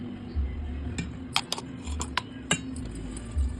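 A spoon stirring rava chocolate cake batter in a bowl: a scattering of light clinks and taps against the bowl, irregular and close, over a soft low background hum.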